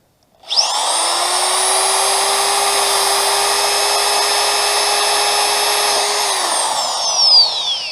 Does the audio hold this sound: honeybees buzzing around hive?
no